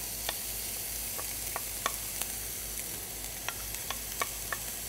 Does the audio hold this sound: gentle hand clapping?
no